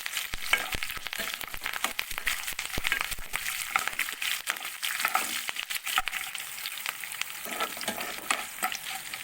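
Green chillies and curry leaves sizzle and crackle in hot oil in a temple-style Navaratri prasadam, while a spoon stirs and scrapes the pan in quick, busy strokes. The sound is close and continuous, with no talk.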